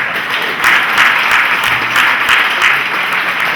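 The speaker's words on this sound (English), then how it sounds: "Let's give him a big round of applause." A conference audience at a JCI event applauds steadily after a keynote introduction, dense hand clapping filling the space at even volume throughout.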